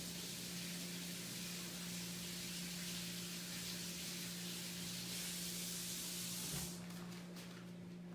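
Tap water runs steadily as hands are rinsed under it, a continuous close hiss lasting most of the stretch before it stops and a few faint knocks and splashes follow.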